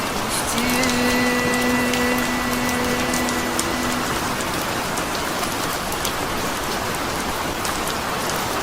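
Rain falls steadily as a dense, even patter close by, with a faint tonal hum lingering underneath near the start.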